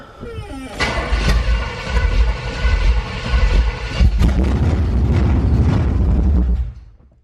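Carbureted car engine cranking and then firing up, a sharp catch followed by a loud rough running roar that holds steady for several seconds before cutting off, with a voice speaking over it.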